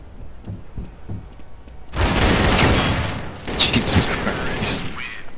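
Rifle fire in Counter-Strike: Source bursts in loudly after a quiet lead-in of faint footsteps, sustained rapid shots with a short break and then another volley, dense and close.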